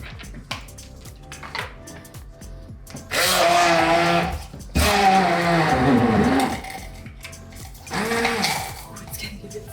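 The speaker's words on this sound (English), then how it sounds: "I'm probably going to do 2 at a time and blitz them because this isn't a very big, whatever it's called, handheld processor" A small handheld food processor blitzing ingredients for a healthy first birthday cake, a loud motor whir in three bursts of a few seconds each, the pitch dropping as it strains, with brief pauses in between.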